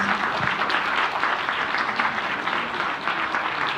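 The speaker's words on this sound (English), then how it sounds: "a big round of applause to our President" Sustained applause from a sizable convention crowd for the President of the Philippines, steady dense clapping throughout with no voices standing out.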